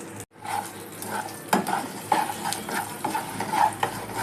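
Peanuts, lentils and curry leaves sizzle in hot oil for a tempering, a steady close hiss with repeated utensil scrapes and taps from stirring.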